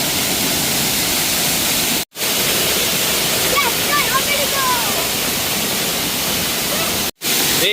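A waterfall at Talavade in Devgad, Konkan, swollen after heavy rain, gives a loud, close, steady roar of rushing water that cuts out briefly twice.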